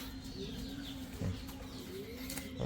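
Pigeons from an expo heard close by, low soft cooing repeating under a faint steady background, with a brief rustle of wings near the end.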